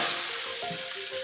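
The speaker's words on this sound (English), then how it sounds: "Listen to the sizzle." A chuck roast sears in a hot pan, giving a steady, loud, close sizzle of frying fat that holds throughout without any talk.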